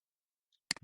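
A computer mouse gives a quick double click in a graphic design program after near silence, two crisp, faint ticks close together, with no voices.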